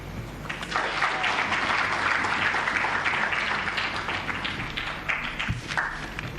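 A crowd applauds steadily for several seconds, a dense wash of clapping that swells and then gradually thins out.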